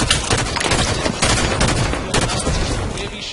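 Dense, continuous gunfire from a Halo 5: Guardians match, rapid overlapping shots and bursts forming a loud, sustained barrage with no pauses.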